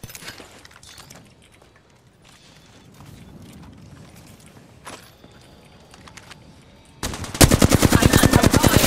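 Gunfire in the Apex Legends video game, scattered shots and clicks early on, then a loud rapid burst of automatic fire near the end, close and dominant with no talk over it.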